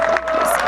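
Spectators at an LPGA golf tournament in Thailand cheer and clap in a short, lively burst, with a steady tone running under the crowd noise.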